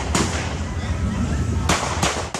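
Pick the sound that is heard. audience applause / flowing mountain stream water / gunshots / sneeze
gunshots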